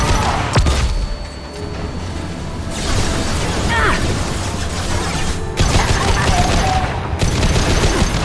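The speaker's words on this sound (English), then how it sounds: "Flashbang!" Flashbang grenade blast and sustained gunfire from a Mass Effect 2 firefight, loud and dense throughout with a sharp burst early and renewed heavy firing near the end, a voice briefly heard amid the combat.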